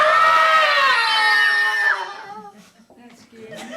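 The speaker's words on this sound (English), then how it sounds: "Can we practice our blood-curdling screams?" A live audience at a Screecher Sunday event at The Venue on 35th letting out practice blood-curdling screams together: high, shrill, sustained shrieks close and loud, tapering off into scattered voices after about two seconds.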